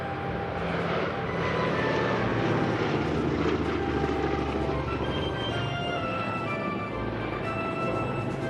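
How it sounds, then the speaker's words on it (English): Vintage aircraft flying past at an air show, a loud continuous engine and propeller roar that swells and holds steady, heard from the ground with no talk. "Another major attraction at any air show is a display of vintage aircraft,"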